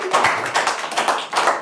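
A church congregation claps in rhythm, a fast, near, steady run of hand claps that fills the moment, with no clear speech.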